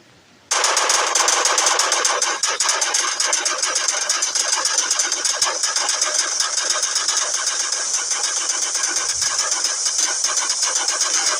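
Rapid, continuous machine gun fire from the Indian Bike Driving 3D video game, a loud, unbroken rattling burst that starts abruptly and keeps going to the end.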